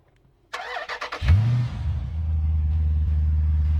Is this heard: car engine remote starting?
yes